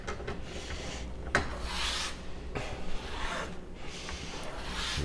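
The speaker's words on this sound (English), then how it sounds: "The stropping angle is the same as the sharpening angle." A knife blade strokes back and forth on a kangaroo leather strop with no compound, a soft dry rubbing rasp repeated in steady close passes with a faint knock partway through.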